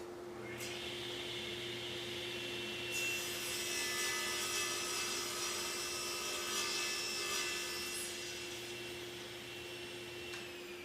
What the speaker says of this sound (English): The first cut I'm going to do is a through cut covering the entire suction area of the dust hood.